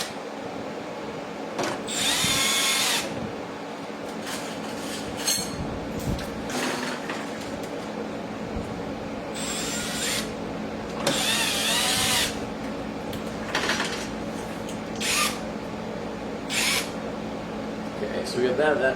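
A power drill drives screws while a front splitter is fitted to a 2023-or-later Corvette C8 Z06, several short whirring bursts over workshop noise, with people talking in between.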